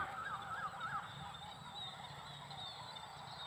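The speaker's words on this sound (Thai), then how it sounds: "เสียงนกบินกลับรัง แล้วนะครับ" Flocks of birds returning to their nests at dusk near ripening rice fields: a chorus of chattering, honking calls comes through at moderate distance over steady outdoor ambience.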